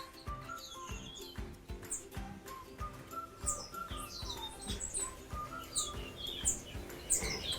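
Several birds chirp and tweet outdoors in a school garden in a busy, overlapping chorus, fairly soft and steady with no talking.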